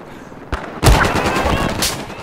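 Loud, close gunfire from snipers and machine gunners in the Xbox One shooter Battlefield 4: a sharp shot, then a heavy burst and sustained rattling fire with a second surge near the end.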